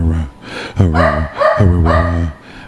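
A small puppy gives a few short, high yips and whiny barks up close, with a brief pause between them.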